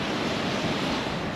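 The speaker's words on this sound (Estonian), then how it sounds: "lained on nii suured, et kaugele ei saagi minna" Ocean surf on a beach in the Philippines roars as a dense, continuous broadband wash, loud and close, with wind buffeting the microphone and no voices.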